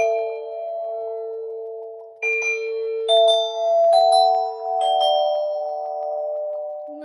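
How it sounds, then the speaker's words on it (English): TouchTone Alert doorbell ringing indoors, a loud, clear multi-note electronic chime of sustained tones stepping through several pitches over about seven seconds. "so I'm going to ring the doorbell"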